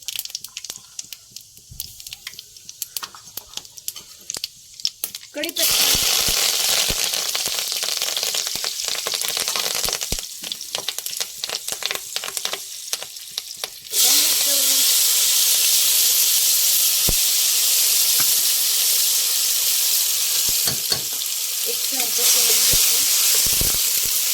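Cumin and a little turmeric hit hot oil with a loud, close, broadband sizzle that starts after a few quiet seconds, dips briefly, then surges even louder and holds steady.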